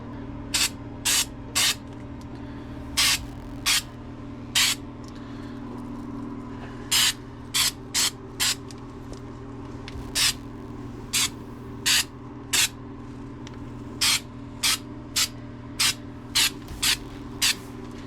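Short aerosol spray bursts hiss over the welds of a roll cage in a Plymouth Duster, about two dozen quick puffs in an uneven rhythm, close and fairly loud against a low steady hum.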